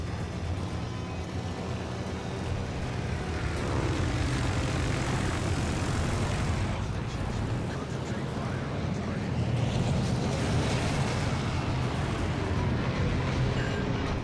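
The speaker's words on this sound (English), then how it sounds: "We got planes overhead." Propeller aircraft droning overhead in the naval battle game World of Warships: Legends, a loud continuous engine roar with a swelling pass midway, mixed with broad rumbling battle noise and some talk.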